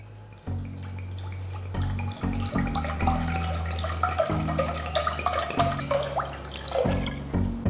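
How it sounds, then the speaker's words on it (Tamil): Water gurgling and splashing into a pot in uneven bursts, close by, with small clinks and drips, no talking. "ஒரு பாத்திரத்தில் தேவையான அளவு தண்ணியை ஊற்றுங்க"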